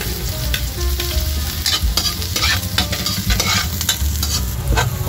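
Garlic sizzles in cooking oil in a pan, a loud, close, crackling fry with sharp spatters and scrapes of stirring scattered over a constant hiss.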